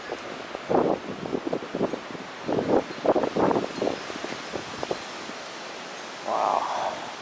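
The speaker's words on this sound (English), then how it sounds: "A lot of wind over here." Strong wind gusts around a Home Depot during a tornado storm, with rough, rumbling buffets against the microphone coming in uneven bursts, nearby and fairly loud.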